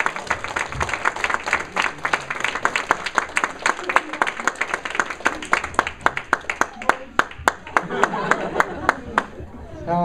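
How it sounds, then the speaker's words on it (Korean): Wedding guests clapping at a reception, crisp individual claps in a brisk rhythm that thin out toward the end, with voices talking over them. "박수 부탁드립니다."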